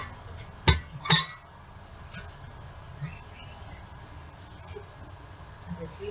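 Clear glass containers, including a roughly one-gallon jar and two small jars of about eight ounces, clink twice in sharp, close knocks, followed by quieter handling noises against a low background hum.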